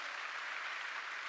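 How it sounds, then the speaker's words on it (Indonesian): A church congregation applauding during a sermon, a steady, fairly faint wash of dense clapping heard from a distance with no talk over it. "Tepuk tangan bagi Allah kita."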